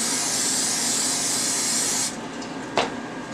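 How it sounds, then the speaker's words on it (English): Spray butter is sprayed onto burger patties in a steady hissing burst lasting about two seconds, then cuts off, followed by a short sharp clack nearby. "I have spray butter, so I'm going to use my spray butter."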